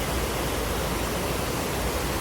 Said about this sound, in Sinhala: හීංගකුලේ වතුර පාර තමයි මෙන්න මේ ඉන්නේ